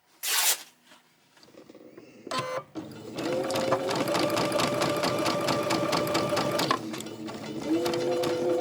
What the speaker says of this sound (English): I am attempting to do a rolled hem on my machine.